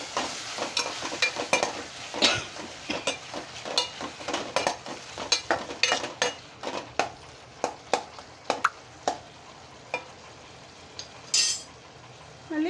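A spoon stirs tomato chutney frying in a pan, making repeated scraping clicks and clinks over a soft, steady sizzle, close and irregularly paced.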